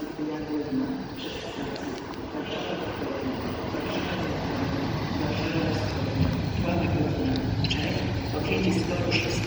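An Intercity train rumbles steadily at Kraków Główny station in winter, a broad low roar filling the platform, with muffled voices and announcement-like speech faintly mixed in.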